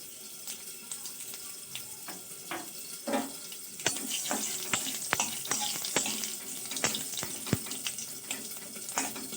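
Whole cumin seeds, with cloves, black peppercorns and cinnamon, sizzle in hot oil for a vegetarian banana-flower dish. The crackle is close and busy, with sharp popping bursts that thicken after the first few seconds.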